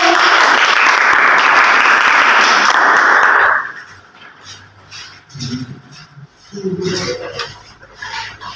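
A classroom audience claps loudly and steadily for about three and a half seconds after a group presentation, then the applause stops and a few quieter voices and shuffling sounds follow.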